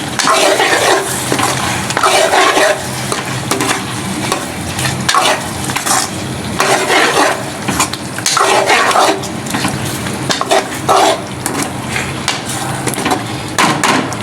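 A spoon stirs and scrapes through a pot of smoky yogurt beef curry as crushed dried fenugreek is mixed in, loud repeated clanks of metal on the pot over a light sizzle, no talking.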